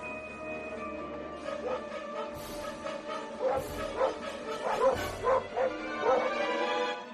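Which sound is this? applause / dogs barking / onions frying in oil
dogs barking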